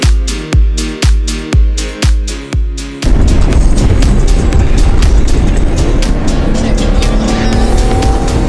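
A video game car drifts through a desert: a few rhythmic engine revs rise and fall, then give way to a sustained, loud tire squeal and engine roar as the car slides continuously.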